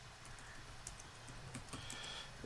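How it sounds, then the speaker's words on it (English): Quiet clicking of typing on a computer keyboard, a loose run of soft keystrokes with a few sharper taps, close to the microphone and heard on its own. "y'all can hear me typing"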